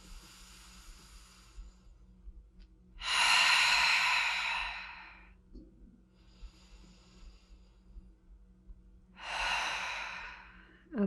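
During a relaxation exercise, a person lying in a butterfly position takes two slow, deep breaths into the belly, each a long, airy inhale and exhale, close and soft, separated by quiet with faint background noise.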